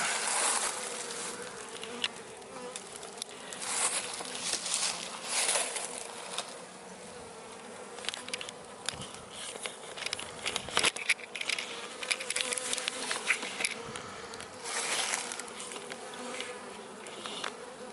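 Honeybees buzz around an open, healthy hive, a faint, steady droning swarm with scattered soft taps and handling clicks throughout.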